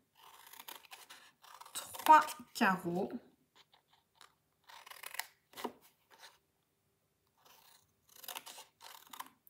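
Scissors snip through paper during a scrapbooking craft session, a few short crisp cuts scattered between bursts of nearby talk in French.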